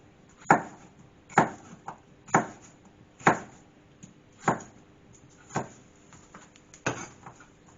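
Bell peppers sliced on a cutting board with a knife, about nine crisp, evenly spaced chops close by in a steady rhythm, with quiet pauses between cuts.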